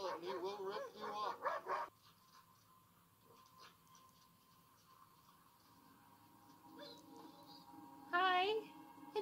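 Dog barking and yipping in short bursts in a The Last of Us TV episode scene, mixed with people talking over and around the barks.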